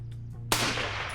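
A single SCAR battle rifle shot cracks out sharply at a steel target on an outdoor range, loud and sudden after a low rumbling lead-in, with a ringing tail and no talk.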